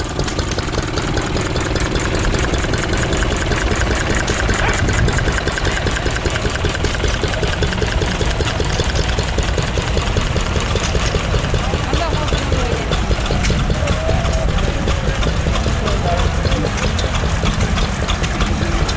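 A Stewart steam engine runs at a steam fair while pumping water, giving a steady, loud mechanical chugging with regular beats over a continuous low rumble throughout.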